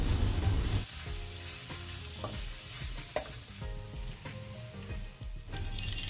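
Oil sizzles loudly as spices, including turmeric, are stirred into frying vegetables for a vegetable kurma, with scraping spoon strokes and occasional clinks against the pan.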